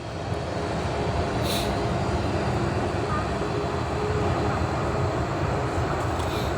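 Boeing 737-800 MAX airliner at an airport, a steady broad engine roar filling the whole stretch at moderate distance, constant and unbroken, with no voices.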